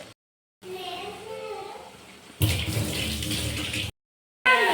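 Water runs from a tap and is poured into a cooking pan for an egg masala curry, a steady splashing rush broken by short pauses, with someone talking over it.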